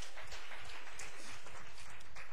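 Congregation clapping in a church service, a dense, steady patter of many hands that fills the short stretch without pause, with no voices rising above it.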